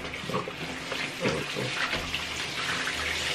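Running water pours steadily from a tap as soap is rinsed off six-week-old Great Dane puppies in a bath, with splashing and small muffled squeaks mixed in, close and continuous.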